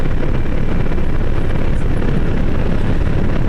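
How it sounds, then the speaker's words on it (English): An Mi-24 helicopter flying close by, heard as a loud, continuous, dense rotor and engine roar with no letup, as if from aboard another aircraft nearby. "Mi-24 is moving into position off my rear left side"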